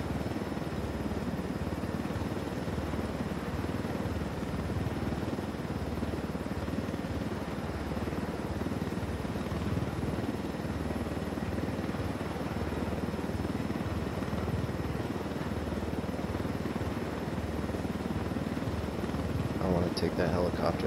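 Steady helicopter rotor and engine drone from a flying helicopter in the video game Tom Clancy's Wildlands, continuous and fairly loud throughout with a voice talking over it.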